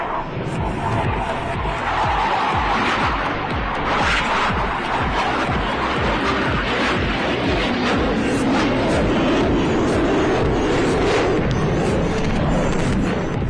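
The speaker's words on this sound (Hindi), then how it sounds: "You will see the aircraft forming a helical structure just like the DNA." Indian Air Force aircraft fly a helical DNA-formation manoeuvre over the academy at Dundigal during a passing-out parade, a loud, continuous engine roar with rumbling low end and crackling bursts that stay steady throughout.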